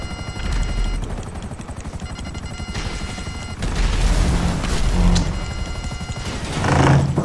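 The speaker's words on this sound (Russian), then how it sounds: "Я чуть всех перестрелял." Gunfire in GTA Online mixed into a continuous helicopter rotor drone, with scattered shots and booming impacts rising in intensity toward the end.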